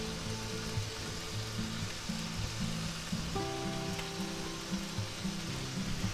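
Sliced ham sizzles and fries in a pan as it browns, a steady, close crackling hiss that carries on without pause, with faint low kitchen hum beneath it.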